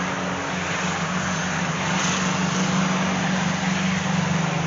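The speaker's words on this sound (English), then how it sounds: "that's a noisy truck." A noisy truck rumbles past outdoors at a junkyard, a broad, steady engine roar with a low droning hum that grows slightly louder mid-clip.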